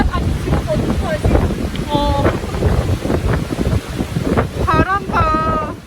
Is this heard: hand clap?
no